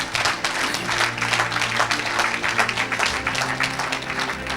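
Steady applause from a church congregation during a worship service, dense continuous clapping with a low hum underneath, sustained throughout at moderate loudness.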